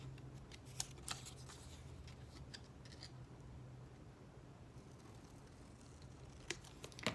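Scissors cut the front tabs off a paper miniature album, giving quiet, close snips and small paper rustles scattered over a soft background hum, with a few crisper snips near the end.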